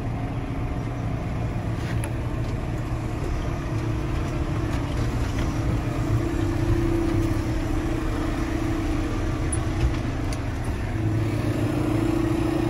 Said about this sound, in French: On fait chanter à deux tracteurs, mon tracteur, ma machine, Kev et sa machine